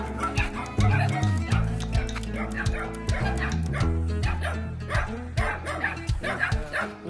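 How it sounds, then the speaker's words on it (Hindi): Several street dogs and puppies gather outdoors around a husky, barking, yipping and whimpering in rapid overlapping bursts, close and steady throughout the stretch. "अभी माइलो को बाहर लेके आए हैं तो सारे कुत्ते इकट्ठे हो गए"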